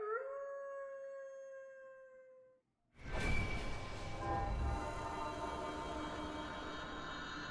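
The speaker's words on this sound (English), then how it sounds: "Why do you want me to howl here?" A howl rings out in a video game, sustained tonal wails over the first few seconds, then a sudden burst of broad, rumbling noise like a passing train that continues loudly to the end.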